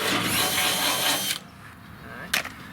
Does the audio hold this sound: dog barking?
no